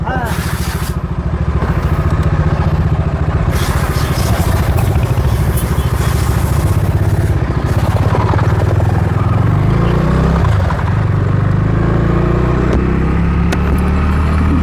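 A Bajaj Dominar 250 with a new chain, sprocket and rear brake pads after 15,500 km rides along with a steady, loud engine drone and road rumble, with faint voices mixed underneath.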